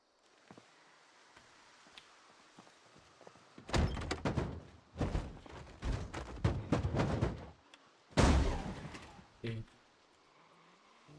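A locked door in the Project Zomboid video game is tried several times, giving a cluster of dull thumps and rattles followed by one heavier bang. The sounds are fairly faint, over a quiet background.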